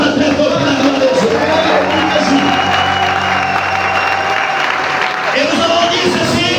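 A church congregation applauds and acclaims loudly, with dense clapping and shouting that hold steady, then swell again near the end.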